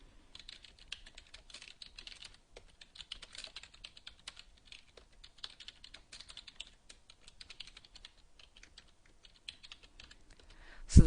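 A SQL select statement being typed on a computer keyboard, a steady run of quick, light key clicks close up for about ten seconds, ending in a sharper knock.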